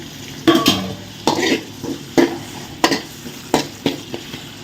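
Tomatoes stirred into sautéed onions in a pan while cooking a Sri Lankan fish curry, with repeated spoon scrapes and knocks against the pan over a low sizzle, about six distinct strokes, close and clear without talk.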